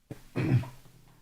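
A person gives a short, close cough, with a brief rasping burst and a quieter second push.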